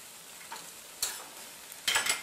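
Breakfast sizzles softly in a frying pan and is turned over, with two brief scraping, spattering bursts rising above the faint steady hiss.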